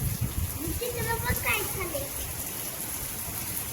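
Rain falls steadily on a rooftop terrace and flower pots during a windy first downpour in Latur, a soft continuous patter with a voice and chatter briefly heard over it early on.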